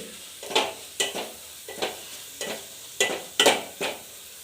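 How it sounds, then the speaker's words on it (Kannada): Spices are stirred in hot oil in a pan for pepper rasam, with rhythmic scraping strokes roughly every half second over a soft, steady sizzle heard up close. "ಅದನ್ನು ಹಾಕ್ಕೊಂಡು ಸ್ವಲ್ಪ ಎಣ್ಣೆಲಿ ಹಂಗೆ ಮಿಕ್ಸ್ ಮಾಡಿ ಸ್ವಲ್ಪ ಫ್ರೈ ಮಾಡಬೇಕು ಎಣ್ಣೆಲಿ"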